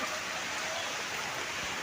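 Steady rain falls outdoors, a constant, even hiss of drops with no other sound and no voices.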